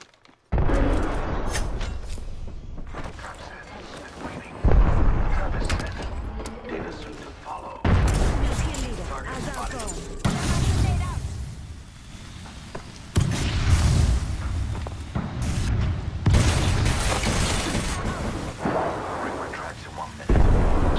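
Gunfire and booming explosions in the Apex Legends battle royale shooter: repeated loud bursts of shots and blasts that rise and fall in waves, under game voice lines and player chatter.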